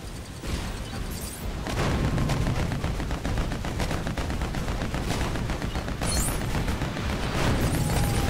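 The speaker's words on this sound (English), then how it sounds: "continue shooting" Rapid, continuous gunfire from Lego Batman 2 rattles on steadily for several seconds at close range, dense and loud with occasional heavier booms, and no one speaks over it.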